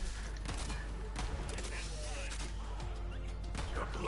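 Rapid gunfire from a weapon in the Borderlands 3 video game crackles in dense, continuous bursts amid loud game effects, with a voice talking over the shooting.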